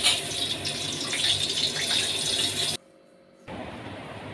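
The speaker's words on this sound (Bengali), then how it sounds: "রান্নার শেষে ছোটো ছোটো বাটি ফাটি এগুলো আমি ধুয়ে নিই" Tap water runs steadily over small bowls being washed in a kitchen sink, a continuous close splashing hiss that cuts off briefly near the end, then resumes more softly.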